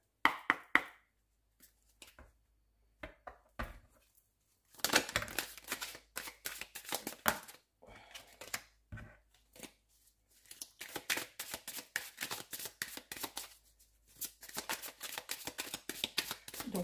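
Oracle cards are shuffled in quick riffling bursts and laid down with soft taps and slaps, close and crisp, with pauses between bursts and no voices.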